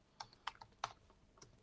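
Keys clack on a computer keyboard as a website address is typed, a handful of sharp separate taps with uneven gaps, close and fairly quiet.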